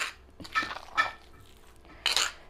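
A spoon stirs turkey berry chutney with red chillies and urad dal in a pan, giving a few short metallic scrapes and clinks against the metal, close and fairly quiet.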